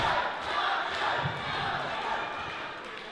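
A wrestling crowd cheers and shouts at a live event, a loud, rolling roar of many voices with a few sharp accents, holding steady for a few seconds.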